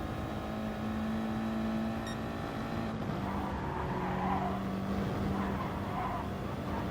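Race cars in a racing video game: a steady engine drone with tonal whines and brief tire squeal as cars take a corner, continuous and mid-distance.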